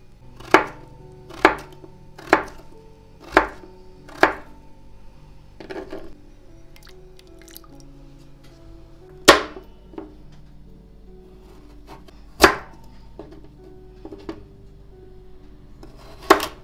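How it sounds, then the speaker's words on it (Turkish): A knife chopping potatoes into cubes on a board: five sharp, evenly spaced chops close up, then quieter scattered taps and two more hard strikes, with no talking. "Bakın şöyle şu boyda küp küp doğradık."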